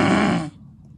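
A single loud, rasping snore made by a voice imitating the sound, lasting about half a second before cutting off to quiet.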